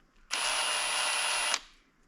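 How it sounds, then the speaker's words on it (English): A power drill countersinks a wooden top handle piece in one steady whirring run of just over a second, close and loud, starting and stopping abruptly with no talk. "I'm going to put a little bit of a countersink in my top piece, like so."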